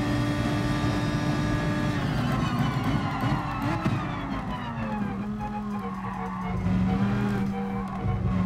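In Gran Turismo Sport, a race car's tires squeal as it strains through a corner on full lock, a steady high whine over the loud droning engine whose pitch sags and rises, with no talk.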